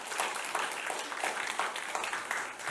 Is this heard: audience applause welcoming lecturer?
yes